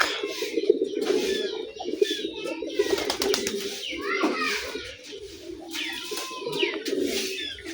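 Morning pigeon loft with a male pigeon's repeated cooing among other birds, steady murmuring calls throughout, with faint children's voices in the background.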